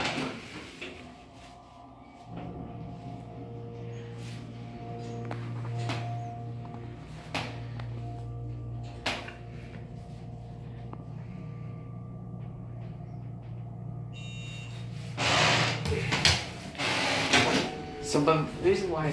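A hydraulic elevator motor hums low and steady in the Technology Building at Westchester Community College, starting after a couple of seconds with faint clicks along the way, then louder clunks and door or cab clatter near the end.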